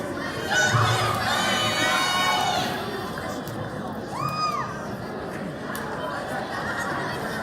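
Students at a school year-end awards ceremony yell and cheer loudly for a host as a crowd. Sustained shouting builds for the first few seconds, then fades into scattered calls and a couple of high squeals.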